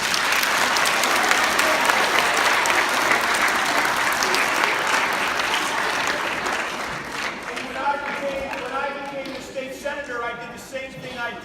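A middle school assembly crowd applauds loudly for several seconds, the clapping fading as a voice begins speaking over the last stretch.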